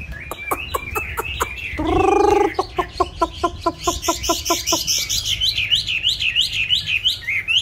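A caged songbird, kept beside a female bird for daily song practice, sings loud and close in rapid repeated chirps, a buzzy trill and rising whistled phrases, with no voices over it.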